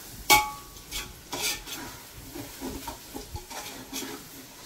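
Mint leaves sauté in a pan for Dindigul-style seeraga samba biryani, a soft sizzle broken by a sharp clink of metal and several quiet stirring scrapes.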